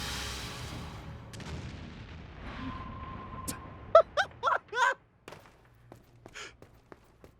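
Grenade blasts in the shooter game Umbrella Corps: a few sharp, booming explosions in quick succession, followed by fainter thuds and a low rumble.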